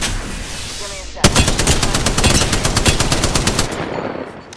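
Gunfire in the video game Apex Legends during a ranked match, with a sudden loud burst of rapid automatic fire lasting a few seconds before it fades.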